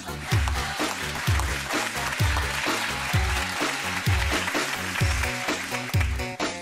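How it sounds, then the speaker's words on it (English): A church audience applauds under loud music, with a strong repeating beat carrying through the clapping the whole way. "Let's give our brother an applause."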